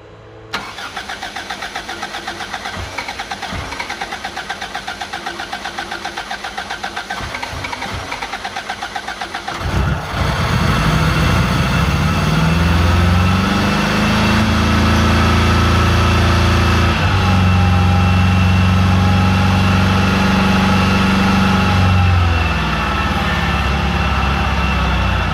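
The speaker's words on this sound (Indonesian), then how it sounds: "sekarang mesin sudah hidup dan tidak berebet lagi" A used car engine with a carburettor cranks with a rapid stutter, catches and roars to life, then settles into a steady, loud idle with slight revving.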